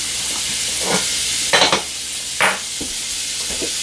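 About three tablespoons of butter sizzle and melt in a warm skillet, a dense steady hiss close by, punctuated by a few louder bursts of crackle and stirring scrapes, with no talking.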